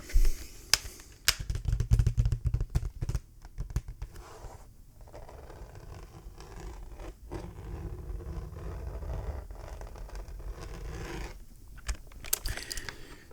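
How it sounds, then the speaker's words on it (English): Fingers clicking and tapping on a General Electric power keyboard, revision K1, in close, quiet bursts of uneven keystrokes with short pauses between runs, soft and intimate with no voice over it. "General Electric power keyboard."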